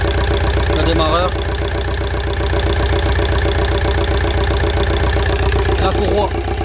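A Volkswagen car engine idles steadily after its alternator and starter were replaced, a loud, even mechanical chug close to the listener, with faint squeaky tones briefly riding over it twice.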